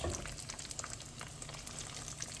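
Cornmeal-and-seasoning-coated catfish fillets frying in hot oil, a steady dense crackling sizzle with fine popping, close and even throughout.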